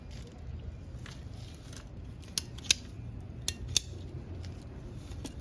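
Sprinkler pipe is cut with a cutting tool at a sprinkler valve, giving a few sharp clicking snips at close range over a steady background hiss.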